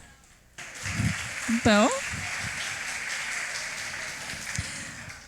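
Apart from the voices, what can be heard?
audience applause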